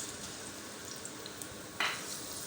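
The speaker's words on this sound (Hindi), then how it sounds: "1 मिनट इसे भूनते हैं।" Chopped garlic frying in a pan for chicken jalfrezi, a faint, even sizzle with one brief clink of a utensil near the end, no voices.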